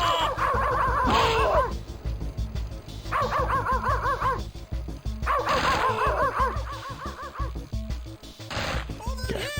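Repeated dog barks from a Sega Saturn video game, bursts of yapping at a steady pace with game music and effects underneath throughout.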